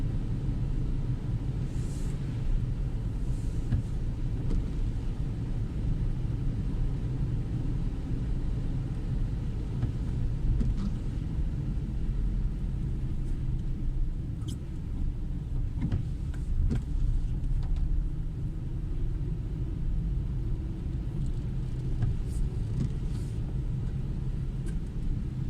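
City traffic in central Lima with Metropolitano buses passing, a steady low engine rumble and road hum that continues without a break, no talking over it.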